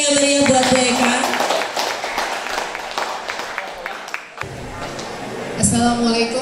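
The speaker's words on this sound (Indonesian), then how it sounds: "Tepuk tangan dong yang meriah buat Bu Eka." Audience applause for a speaker at a school job fair in an Indonesian vocational school hall, a sustained burst of clapping from a crowd over music, fading briefly before swelling again near the end.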